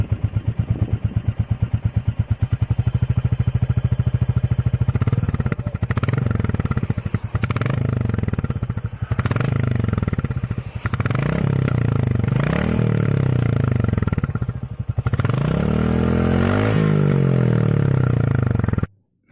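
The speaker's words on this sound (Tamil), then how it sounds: "ராயல் என்ஃபீல்ட் பைக்கோட எக்ஸாஸ்ட் சவுண்டு பார்ப்போம்." A new Royal Enfield Classic motorcycle thumps at idle with rapid, even exhaust pulses, then rises through several loud revs that swell and fall back, close and dominant throughout.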